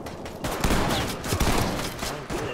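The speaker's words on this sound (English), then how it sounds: "I'm getting shot at from outside." Gunfire in the shooter Ready or Not, a fast burst of shots coming from outside, moderately loud and muffled, rattling almost continuously for a couple of seconds with a short gap near the end.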